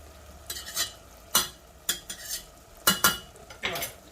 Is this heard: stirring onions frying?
yes